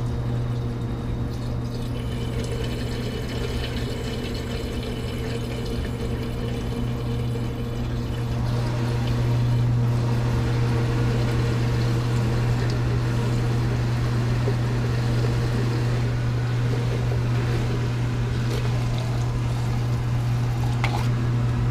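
A repaired washing machine running with water pumping and pouring through it, a steady, fairly loud droning hum with continuous splashing flow, close by and without talk.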